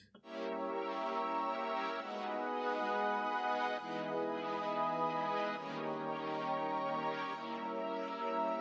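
Sustained synth pad chords from an R&B trap beat made in Studio One, each chord starting at the top of the bar, with a smooth continuous wash of stacked harmonics and gentle chord changes every couple of seconds, alone and steady.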